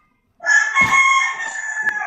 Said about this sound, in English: Whose chicken is that?